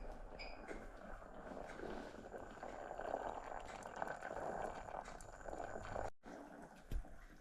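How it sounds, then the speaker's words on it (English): Butter simmering and bubbling in a pan as it is clarified, a steady low seething fizz that runs on with faint crackles and a brief break near the end. "when it's all boiled over, we will sieve away the impurities"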